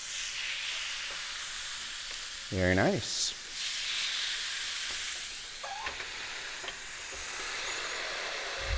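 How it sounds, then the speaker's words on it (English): Steady loud sizzling of steak frying in a hot pan, with a brief metallic clink and a short spoken remark partway through. "And the sizzle."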